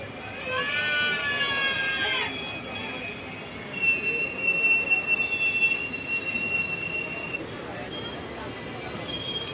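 Gour Express coaches reversing at a station platform to couple with another train, with high metallic wheel squeal and steady rail rumble throughout, a sharp squeal burst early on, and faint voices in the background.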